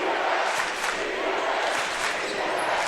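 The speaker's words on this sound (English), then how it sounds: "Now the Bears chanting defense" Home fans at a boys high school basketball semifinal chant defense in a gym, a loud, sustained crowd roar with rhythmic swells that fills the space and stays constant throughout.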